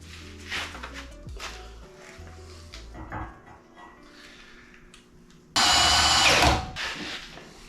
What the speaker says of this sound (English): Definitely want to drill and tap those holes before I weld this thing up